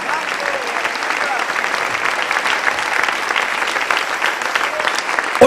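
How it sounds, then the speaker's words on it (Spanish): A church congregation applauds during a Spanish-language sermon, producing a loud, dense, continuous roar of clapping from a crowd that holds steady throughout. "Dele un aplauso al Señor."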